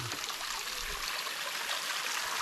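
Water gushes strongly out of a garden watering hose laid across a vegetable plot, a close, steady rushing hiss with no pauses.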